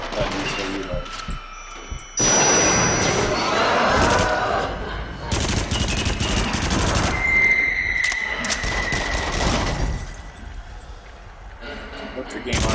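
Gunshots and mechanical clatter from the Until Dawn: Rush of Blood video game, loud and dense across most of the clip, mixed with frequent talking and exclamations.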